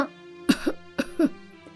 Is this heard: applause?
no